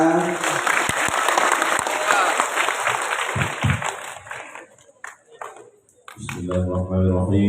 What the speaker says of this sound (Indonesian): Tepuk tangan dong jamaah